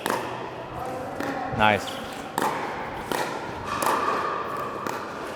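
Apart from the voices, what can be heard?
pickleball dink shots hit with paddles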